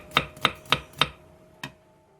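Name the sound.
knife slicing cucumber, chili, green onion and onion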